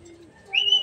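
A racing pigeon arriving at its loft gives a short, close coo, rising and holding steady for under a second against a quiet background.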